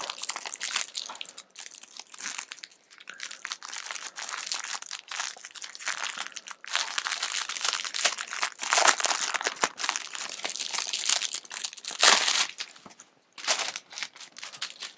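Continuous crinkling and crunching of stiff packaging from a Star Trek Attack Wing starter set, close and fairly loud, with brief pauses and a sharper burst near the end; no talking.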